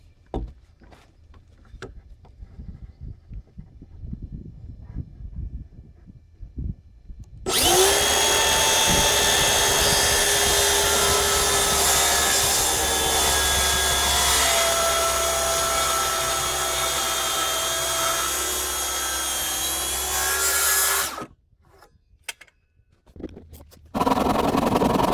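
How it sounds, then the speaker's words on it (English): A hand plane smoothing a rough-cut wooden boat part during a refit, a steady loud rasping scrape lasting about fourteen seconds, with quieter workshop noises before and after. "It was just a rough cut, but I'll go over it with a plane again."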